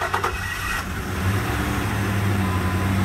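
A broken tow van's engine fires up close by with a few sharp cranking bursts at the start, then settles into a steady, rumbling idle.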